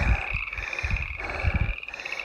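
A chorus of frogs croaks steadily nearby at pools of water in New Mexico, pulsing in repeated low bursts over a continuous high trill.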